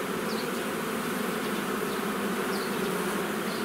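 Honeybees hum in a dense, steady, close-up drone at an opened hive during an early-spring inspection in March; no voices.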